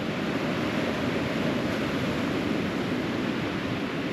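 Waves surging steadily up a beach as the tide comes in on the coast at South Landing near Flamborough Head, a constant broad roar of surf mixed with wind buffeting the microphone.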